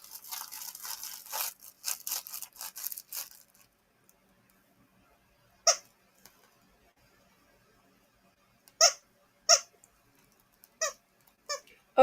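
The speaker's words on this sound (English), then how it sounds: "Okay, so it's got a squeaker in the top" A Leaps and Bounds Playmate dog toy with squeakers and crinkle material rustles briefly, then gives about six short, sharp squeaks spaced a second or two apart in an otherwise quiet room.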